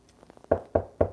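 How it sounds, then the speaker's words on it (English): Someone knocks on wood: a few faint light taps, then three firm, evenly spaced knocks close by in a quiet room. "knock on wood"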